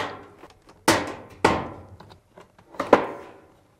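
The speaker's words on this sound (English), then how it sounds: "Depress the locking tabs while pushing in." Several sharp plastic knocks and thumps as locking tabs are pushed in to release the top panel of a Fisher & Paykel clothes dryer, three loud close hits with softer taps between, no talking.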